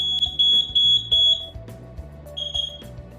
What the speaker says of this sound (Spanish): activará la sirena y nos indicará que un intruso ha entrado a nuestro hogar, oficina, empresa, etc.